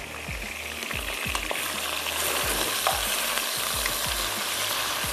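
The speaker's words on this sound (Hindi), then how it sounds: "हल्का सा सौते करते हैं बस।" Vegetables are lightly sautéed in a pan for hara masala pasta, a steady close sizzle broken by repeated scraping and clinking strokes of stirring.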